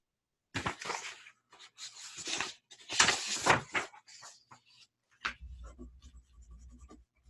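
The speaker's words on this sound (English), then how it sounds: "Let me write myself a note here." Someone writes a note by hand, a few bursts of scratchy pen strokes on paper with brief pauses between them, close and fairly quiet, ending with a soft knock and low rumble.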